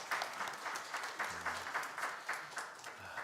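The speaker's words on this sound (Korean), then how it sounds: "하나님께 영광의 박수 올려드립니다." Applause from a church congregation during Sunday worship, steady rhythmic clapping heard at a moderate distance, with a faint voice murmuring underneath.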